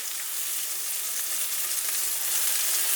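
Garlic, rosemary and thyme sizzle in a hot pan alongside a steak, a steady, bright frying hiss that runs continuously and fairly loud with no talking.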